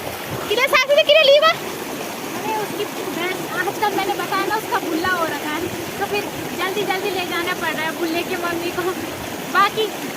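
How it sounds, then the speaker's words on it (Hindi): A flowing river where people bathe and wash clothes gives a steady rushing, splashing wash throughout, with close voices talking loudly over it. "नदी का बहाव के कारण जो आवाज़ है उसकी वो ज़्यादा हो रही है"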